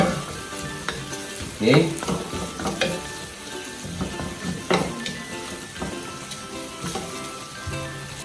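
Vegetables and beef sizzle and fry in a pot, a continuous crackling hiss broken by stirring scrapes and clinks of a utensil, with a brief spoken word over it.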